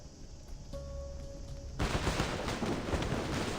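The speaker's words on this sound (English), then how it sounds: "The sound of gunfire echoes from outside the courtyard" Muffled bursts of distant gunfire from a video game setting in Reverse: 1999, echoing from outside a courtyard; a quiet lead-in gives way to a dense, continuous rattle of shots.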